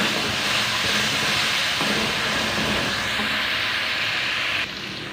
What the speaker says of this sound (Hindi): यहाँ पे लहसुन अदरक के पेस्ट को 2 मिनट तक भून लेंगे।